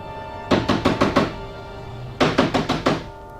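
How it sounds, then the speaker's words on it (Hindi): Knocking on a door in a radio drama, two quick bursts of about five sharp raps each, close and loud, with a steady low hum behind. "इस वक्त दरवाजे पर खटखटाहट हो"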